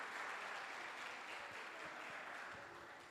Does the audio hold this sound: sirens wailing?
no